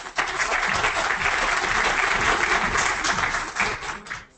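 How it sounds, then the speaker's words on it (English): Audience applause at a Pakistan leadership conference on growth opportunities, a dense, steady wash of many hands clapping that holds for several seconds and tapers off near the end. "Huge round of applause"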